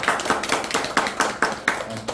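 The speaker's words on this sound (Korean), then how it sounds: "믿으시면 박수." An audience claps at a Korean speech lecture, giving a quick run of sharp, loud, evenly spaced claps that sounds like a small group.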